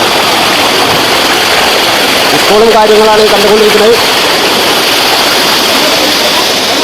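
Kakkidikkal waterfall pours in a steady, loud broadband rush throughout, with someone speaking over it briefly in the middle.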